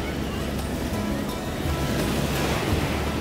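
Sea waves surge continuously onto the shore at Puri beach, a steady, close rush of surf mixed with wind noise that holds at an even loudness throughout.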